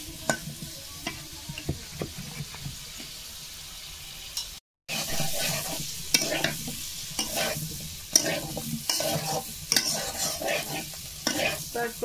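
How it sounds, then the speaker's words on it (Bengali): Panch phoron frying in a pan, stirred with rhythmic scraping strokes over a light crackling sizzle, close and fairly quiet, with a brief silent gap partway through and no talking. "পাঁচফোড়নটা কিন্তু আমার প্রায় ভাজা হয়ে গেছে। এখন এটা আমি আর একটু নাড়াচাড়া করে নামিয়ে নেব।"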